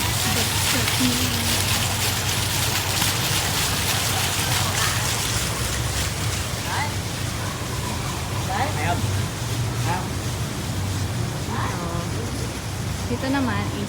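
Water falls continuously in an outdoor park water feature, a steady rushing wash with no pauses. Voices and scattered activity come and go faintly underneath it.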